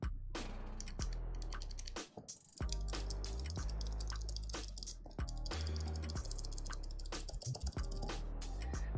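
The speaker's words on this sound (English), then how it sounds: "I got a Razer keyboard right here." Rapid clacking keystrokes on a custom Razer computer keyboard with PBT keycaps, close and dense, with brief bursts and short pauses.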